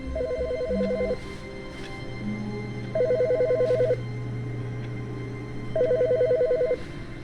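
A telephone rings in The Stanley Parable, three bursts of a repeating electronic ring about three seconds apart, fairly loud over a low steady hum, with no talk.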